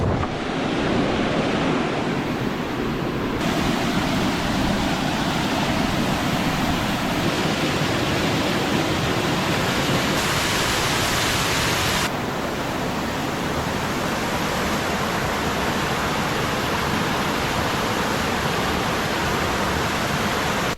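A waterfall roars in the open air, a broad, steady rushing wash that stays loud and constant throughout, mixed with wind buffeting the microphone.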